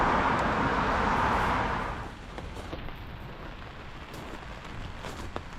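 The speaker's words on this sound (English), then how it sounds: "So a proper rain has come down." Heavy rain pours down outdoors on a motorcycle trip, a dense loud hiss for the first two seconds that eases into a lighter, steady patter of drops with a few sharper splashes.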